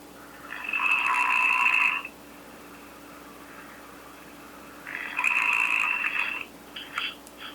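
Loud snoring from a sleeping man, recorded on a phone at night: two long rasping breaths of about one and a half seconds each, separated by quiet pauses, with a faint steady hum underneath.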